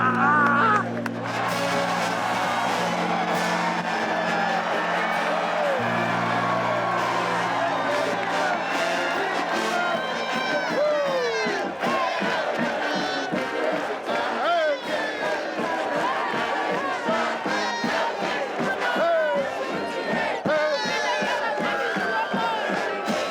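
A large Alabama football crowd roars continuously for a long stretch, with shouts, whoops and clapping, while a low musical drone plays early on.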